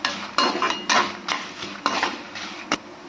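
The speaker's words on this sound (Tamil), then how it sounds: "அடுத்த மீடியம் ஃப்ளேமில் வச்சுட்டு இந்த மாதிரி நல்லா வறுத்துக்கோங்க" Spices and pepper being roasted in oil in a pan over medium flame, with a utensil stirring and scraping in repeated strokes and sharp metallic taps against the pan, close and fairly loud, with no talking.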